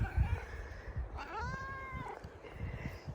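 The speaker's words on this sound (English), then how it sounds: "And there's my other cat." A friendly cat in a home garden gives a single clear, drawn-out meow in the middle, rising out of soft outdoor background noise.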